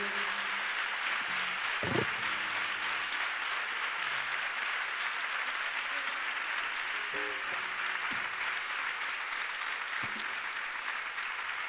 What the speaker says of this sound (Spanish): a mí me gustaría pedir un aplauso para toda mi banda